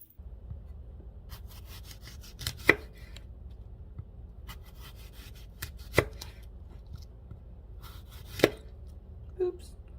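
Fuji, Gala and Granny Smith apples being cored with a hand tool: three sharp, crisp crunching cuts spaced a few seconds apart, close up, with quiet scraping and handling noises between them and no talk.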